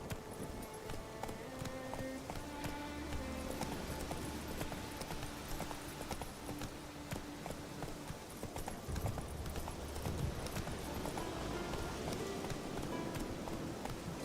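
Roach the horse gallops in The Witcher 3: Wild Hunt, a steady run of hoofbeats clip-clopping over continuous game music with no talk, staying close and even for the whole stretch.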